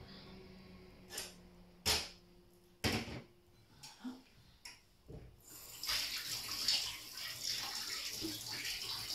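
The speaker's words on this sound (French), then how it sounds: "petit lavage de main, comme d'habitude" Hands washed under a running kitchen sink tap: a few sharp knocks and handling clatters, then the water gushes on loud and steady for the last few seconds, with no voices.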